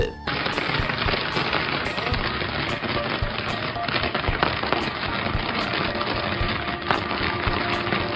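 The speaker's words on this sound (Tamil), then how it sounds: "இது கேமராவில் பதிவான ஒரு பெஸ்ட் ஃபயர் ஒர்க்னே சொல்லலாம்" Fireworks bursting in a night sky, forming a ladder pattern, with dense continuous crackling and sharp repeated bangs throughout, loud and sustained with no talking.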